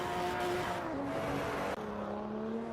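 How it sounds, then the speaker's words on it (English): Race car engine in a sim racing game at Spa, revving hard with a steady high-pitched whine that drops briefly and climbs again, loud and continuous with no talk. "So they're deciding to rev out the engine there."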